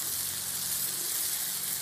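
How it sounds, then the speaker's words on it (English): Green tomatoes dredged in flour fry in oil and butter on a Blackstone griddle, giving a steady, close, continuous sizzle with a bright hiss and no talking. "We just do it with flour and some oil and butter."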